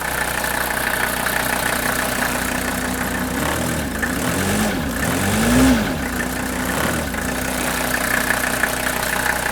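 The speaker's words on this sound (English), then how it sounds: "So I'm going to start up the engine now" A diesel engine with a fuel injector under test runs at a steady idle in a workshop, a loud continuous low rumble with a brief rise and fall in pitch midway.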